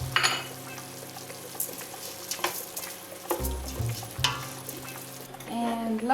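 Rice sizzling and frying in a pan for stuffed peppers while a utensil stirs it, with steady crackle, scraping strokes and a few clinks of cookware close by.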